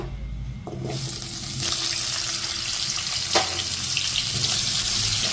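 Drumstick pods are dropped into hot oil in a kadhai, and a quiet hum gives way to a loud, steady hissing sizzle that continues unbroken, with one brief clatter.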